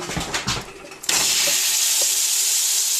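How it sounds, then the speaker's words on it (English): Steak hitting a hot skillet for a London broil: after a second of kitchen clatter, a loud, steady hiss of searing meat bursts in and holds without letup. "Here goes the steak into the skillet."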